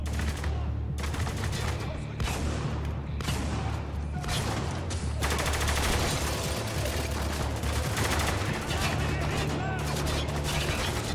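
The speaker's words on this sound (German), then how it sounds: "Beschuss von überall." Heavy, continuous gunfire pours in from every direction during a Spec Ops: The Line firefight, dense overlapping bursts and shots with a low rumbling bed, loud and sustained throughout with no talking.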